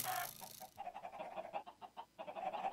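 Minecraft chickens clucking in a game, a rapid series of short, bright clucks and squawks repeating close by with brief pauses between bursts.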